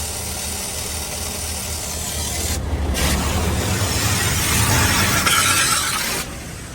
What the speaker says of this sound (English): And now the spot free rinse.